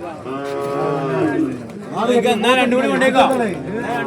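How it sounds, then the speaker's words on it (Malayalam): Water buffalo moo low and drawn out close by, several calls overlapping amid a busy outdoor livestock market at Kollannur. "2 വലിയ പോത്ത്"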